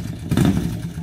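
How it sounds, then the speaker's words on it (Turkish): A motorcycle engine revs briefly nearby, a short rumbling surge that rises then settles as the bike pulls away. "köpekler nefret eder motor sesinden"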